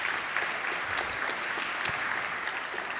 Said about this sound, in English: A round of applause, please, for Kim.